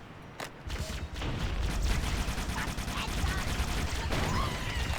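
Needler firing homing needles in the Halo video game, a rapid dense stream of crackling shots and small pops that runs nearly continuously and loudly, with gunfire and mechanical game sounds layered in.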